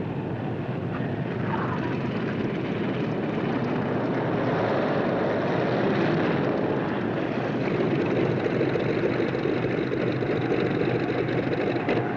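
Propeller aircraft engine drone, steady and fairly loud, holding for about twelve seconds as World War II fighter planes near the Guadalcanal airfield and come in to land, with no voices over it.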